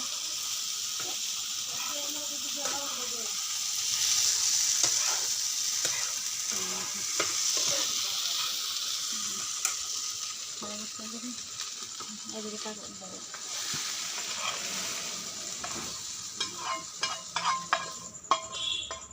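Okra stir-fries in a wok with a continuous sizzling hiss and repeated scraping stirs that grow busier toward the end, while a voice talks intermittently over the cooking.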